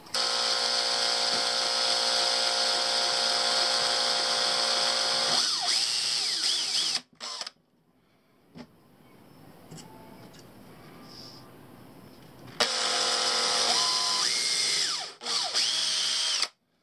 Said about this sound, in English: just so I could drill the holes